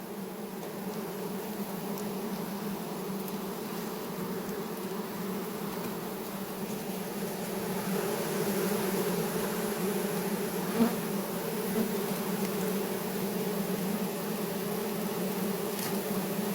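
Thick, continuous buzzing of a honeybee swarm during a capture on Vancouver Island, close and steady, swelling slightly louder midway with occasional bees passing near.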